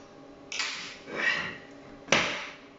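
A key turns a screw in a Dinamika heavy door hinge, giving two short metallic scraping grinds close up, with quiet pauses around them.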